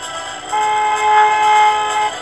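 A car horn honks in a Paw Patrol traffic video game, a single sustained electronic toot lasting about one and a half seconds, loud and clear over faint game background.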